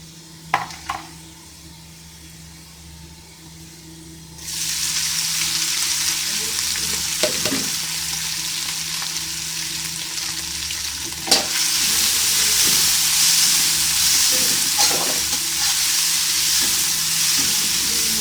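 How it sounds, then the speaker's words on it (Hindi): Quiet clatter, then a sudden loud sizzle as garlic hits hot oil, frying steadily with occasional stirring clicks. "ऑयल मेरा गर्म हो चुका है, मैं इसमें लहसुन शामिल करूँगी।"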